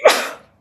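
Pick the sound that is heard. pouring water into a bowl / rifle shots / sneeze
sneeze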